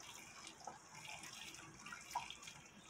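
Boiling water runs into a pressure cooker holding about 2.4 kg of seasoned beef feet, a faint, steady trickling pour with a couple of soft splashes, no talk.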